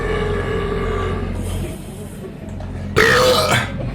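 Loud, raspy burp let out in a public place, a long rough belch standing out sharply over background street or transit noise.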